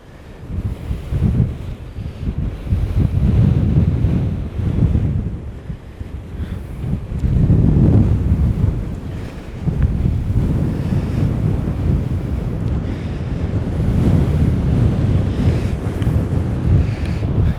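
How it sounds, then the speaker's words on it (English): Strong wind buffets the microphone over steady, rolling surf on a vast beach along Scotland's NC500 route, a loud, continuous roar that swells and eases with no voices. "this beach truly is enormous"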